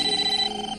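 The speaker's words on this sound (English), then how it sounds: "Your toaster's ringing." A cartoon toaster rings like a telephone, a short, bright electronic trill heard alone for under a second.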